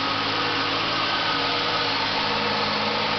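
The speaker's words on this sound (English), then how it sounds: "There's the engine." A 2000 Ford Crown Victoria LX with a 4.6 liter Triton V8 idles steadily, a close, even engine drone with a low rumble and no voices.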